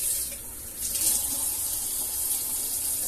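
Water streams steadily from a tap into a pot or sink while eggs are being prepared for cooking, a continuous close hiss with a brief swell in the middle.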